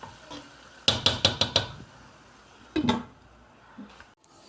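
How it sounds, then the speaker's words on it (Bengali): Chicken biryani meat being braised in a pot: a quick run of five or six metal spoon clinks against the pot, a short scraping stir later, then a soft faint clink, all close by. "আর এই যে বিরিয়ানির মাংস কষানো হইতেছে"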